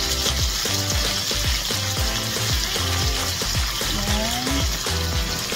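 Onion and ginger frying in a pan for basa steak paksiw, a loud continuous sizzle close up, with a short spoken word and background music beneath.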